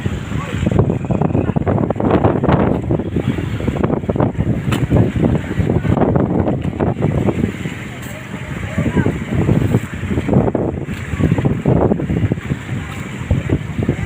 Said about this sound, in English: on one of those small pump boats, this is what's called a pump boat